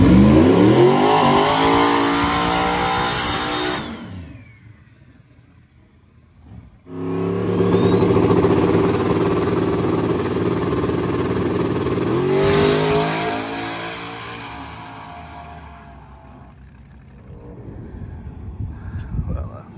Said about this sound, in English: And Matt put it back to our second pass of the Christmas tree race, so it's a little bit less power. So we're gonna see what she runs